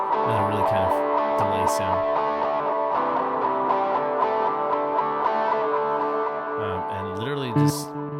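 Guitar notes ring out with a delay effect from an Ableton Live loop setup, echoes trailing behind each phrase, fairly steady and moderately loud with a few sharp transients.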